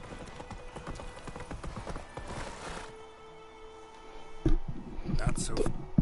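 Hooves of Roach, a horse in The Witcher video game, clip-clop in a steady quick rhythm, then fade. Speech and shouting follow, with a sharp louder burst near the end.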